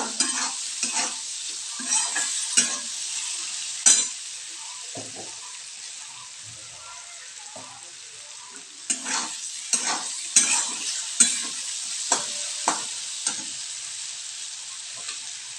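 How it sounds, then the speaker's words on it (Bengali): Frying with turmeric in a pan: a steady sizzle with bursts of scraping and clinking as the contents are stirred, pausing midway then resuming, close and moderately loud. "কি সুন্দর ভাজা ভাজা হচ্ছে।"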